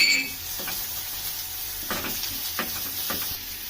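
Chopped onion and green chilies fry in a pan, a steady close sizzle with brief crackles and light stirring scrapes throughout, no talking.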